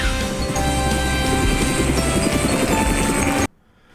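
A helicopter arrives with a loud, steady rotor and engine roar carrying a low rhythmic thud, close and continuous, then cutting off abruptly near the end.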